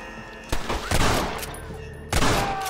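Loud gunshots in the Red Dead Redemption western video game: a sharp crack, then a burst of rapid fire, then another blast, each with a ringing tail over a busy game soundscape.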